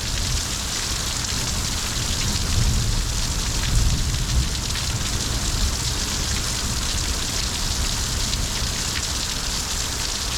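Heavy thunderstorm rain in Needles, California pours in a dense, steady hiss, loud and close, with a few low thumps underneath and no voices.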